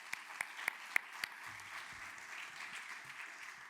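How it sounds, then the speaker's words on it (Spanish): Audience applause in a screening hall following a documentary, a steady wash of clapping with several sharper claps standing out early, moderately distant, with no voices over it. "Un aplauso para Sam y Israel, que están por aquí también."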